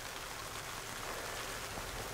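Heavy rain pours down outdoors, a dense, unbroken hiss of drops striking surfaces, close and steady for the whole stretch.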